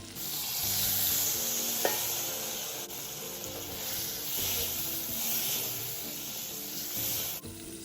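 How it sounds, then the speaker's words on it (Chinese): Pork belly and pumpkin stir-fried in a wok, a loud, steady sizzle with scraping strokes of the spatula, and a short splash as water goes in partway through. "拌炒均匀后再加点水"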